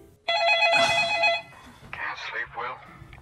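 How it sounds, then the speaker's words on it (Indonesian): A telephone rings once with a loud, trilling electronic bell that lasts about a second, then fades as speech follows. "Tiba-tiba suara telepon berbunyi."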